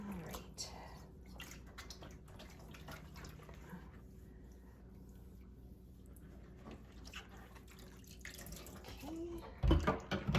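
A finished cross stitch fabric is swished by hand in water to rinse out soap, giving soft sloshing and dripping at moderate level, with a louder splash near the end.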